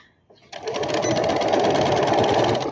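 Sewing machine starting up after a brief silence and stitching fabric in one loud, steady, close run of rapid mechanical chatter.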